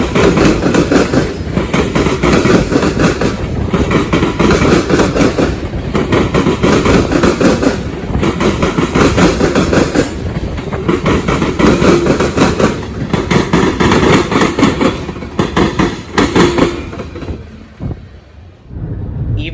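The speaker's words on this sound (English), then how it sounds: "Assigned to take 171 was a Norfolk Southern AC44C6M and a CSX ET44AH" Train 171, led by a Norfolk Southern AC44C6M and a CSX ET44AH locomotive near Marion, roars past close by with loud, steady rumbling and wheel clatter for the whole stretch, then eases off slightly at the end; no voices.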